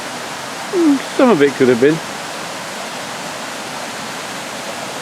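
Waterfall near Laxey on the Isle of Man, a broad, steady rushing roar that fills the whole clip, with someone speaking briefly over it near the start.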